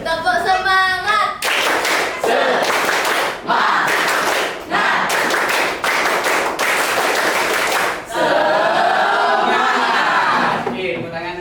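A classroom of students performs a rhythmic spirit clap, tepuk semangat, in bursts of loud, fast, synchronized claps with brief pauses between sets, mixed with chanting voices and chatter before and after.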